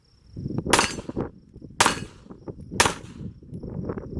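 A Smith & Wesson M&P 2.0 Competitor pistol fires Federal Syntech 150 grain rounds at a range: three sharp, loud shots roughly a second apart, each with a brief metallic ring, amid faint handling noise.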